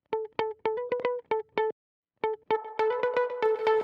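Dry plucked electric guitar lead with no effects, in a nostalgic indie pop style: crisp single notes picked in short bursts, then a brief gap, then a faster flurry of ringing notes, close and clear.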